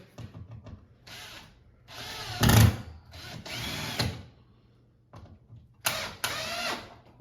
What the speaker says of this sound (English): We're gonna go here, put the top screw in.